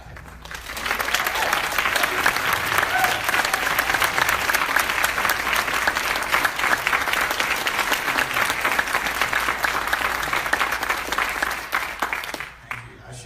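Sustained applause from an audience welcoming Dr. David Ragland, a steady dense clapping that holds evenly for about twelve seconds before tapering off at the end.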